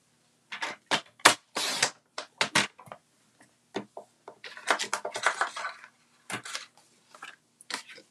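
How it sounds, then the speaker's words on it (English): A paper trimmer cuts cardstock in quick, close bursts of clicking and scraping strokes, separated by short quiet gaps, in a small indoor crafting setting. "you can cut through 2 or 3 layers of cardstock at one time with our trimmer"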